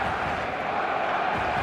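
Steady stadium crowd roar from an eFootball 2026 match, a dense, continuous wash of massed voices building toward a crescendo, loud and unbroken with no distinct individual shouts.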